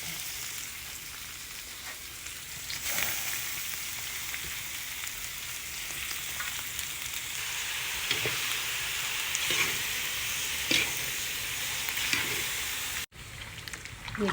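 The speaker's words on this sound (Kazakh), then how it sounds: "Енді үстіне етін сала беруге болады." Young horse meat fries in a cauldron, giving a steady, moderately loud sizzle with scattered pops and faint utensil knocks throughout, no voices.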